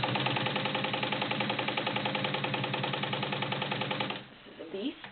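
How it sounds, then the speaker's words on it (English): A vintage Kenmore 84 domestic sewing machine, 1.2-amp heavy duty, stitches through three layers of garment leather with a steady, rapid mechanical hum and chatter that runs loud and close before stopping near the end. "Perfect stitch on the 3 layers of leather."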